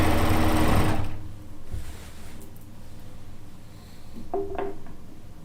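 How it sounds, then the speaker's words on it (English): A sewing machine stay-stitches around the edge of a quilt top, running loud and steady for about a second, then breaking into softer, uneven bursts of stitching with a few light clicks near the end. "I will stay stitch around the edge, around the entire edge of this quilt top"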